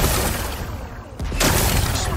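A rock-blasting explosion in Horizon Forbidden West: a dense rumbling roar, a brief dip, then a second louder burst of crumbling, shattering debris, all close and full.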